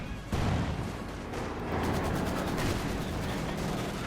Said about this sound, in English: That's the 45mm cannon just opens up.